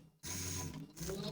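Domestic sewing machine stitching a narrow seam on a shirt before the collar stand is attached, a steady close whirring run of about a second that starts abruptly after a brief quiet moment.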